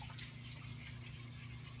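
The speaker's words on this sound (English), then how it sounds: "So we're going to apply some water." Water is applied to a Vermont marble stone surface, giving a steady, faint wash of running or trickling water over a low background hum, with no speech.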